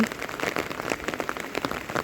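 Rain falling on a rice paddy during planting, a dense crackle of drops pattering on water and surfaces at close range, steady and fairly faint with no voices.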